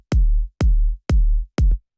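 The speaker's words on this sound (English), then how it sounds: "So you can hear this is just a deep and very fat kick" A deep, fat kick drum sample in an organic, textured electronic style, struck four times at an even pace, each hit booming with a sharp attack and a long low tail, loud and isolated.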